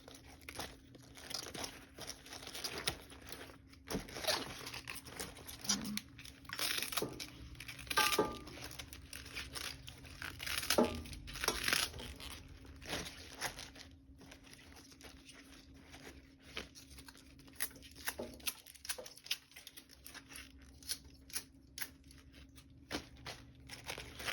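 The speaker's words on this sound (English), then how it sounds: "you want to cut them into bite-sized pieces" Knife chopping collard greens into bite-sized pieces on a cutting board, giving repeated crisp crunching and crinkling leaf cuts at an uneven pace, close and moderately loud, with no talking.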